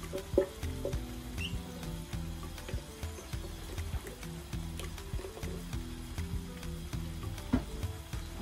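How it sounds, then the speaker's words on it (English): Chopped red pepper sizzles and pops as it fries in oil, a steady close crackle with occasional stirring scrapes. "But I have to fry it to dry, so that it can last for"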